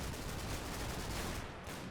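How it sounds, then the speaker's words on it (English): Dense, continuous rifle fire from an infantry section in Combat Mission: Battle for Normandy, a steady rattle of overlapping shots with no pauses, loud and close throughout. "I think we're just going to let our section here fire at the guys running away"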